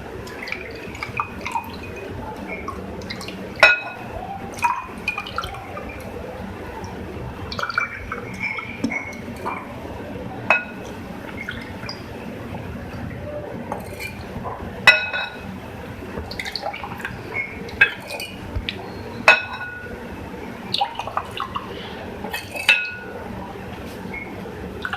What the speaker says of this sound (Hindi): इसके बाद हम इसमें शरबत डालेंगे।